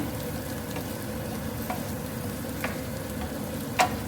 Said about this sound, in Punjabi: ਪਨੀਰ ਪਾ ਕੇ ਇਹਨੂੰ ਚੰਗੀ ਤਰ੍ਹਾਂ ਮਿਕਸ ਕਰਾਂਗੇ